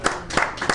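Scattered clapping from a crowd in a sports bar as people rise for a standing ovation, several bursts of hand claps within under a second, moderately close.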